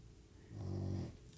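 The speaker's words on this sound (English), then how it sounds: "that's a snore of another one of my dogs" A sleeping dog snores once, a single soft, low, drawn-out rasp heard close by in a quiet room, with no talking.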